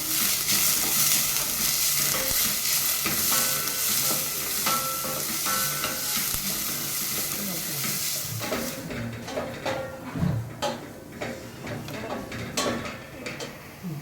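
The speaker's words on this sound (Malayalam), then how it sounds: "ക്യാരറ്റും ഉള്ളിയും നമ്മൾ ചേർത്ത് കൊടുക്കുകയാണ് എന്നിട്ട് നമുക്ക് നന്നായിട്ട് മിക്സ് ചെയ്ത് കൊടുക്കാം" Carrots and onions sizzle loudly in a hot pan as a utensil stirs and scrapes repeatedly; the sizzle fades partway through, leaving irregular clinks and stirring.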